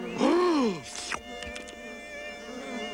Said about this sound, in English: Hey, that buzzing's for real. Must be a beehive nearby.